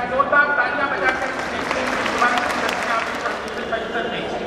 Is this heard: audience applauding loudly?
yes